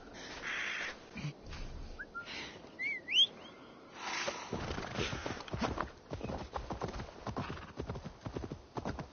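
Steady rhythmic hoofbeats of a horse clip-clopping in the video game Assassin's Creed Valhalla, starting after a few seconds of quieter outdoor ambience with a brief whistle and birdlike chirps.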